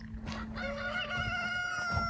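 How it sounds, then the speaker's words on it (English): Roosters kept in a chicken tractor crow nearby, a drawn-out cock-a-doodle-doo over soft clucking and background barnyard noise, with no people talking. "So we've got 3 roosters over there"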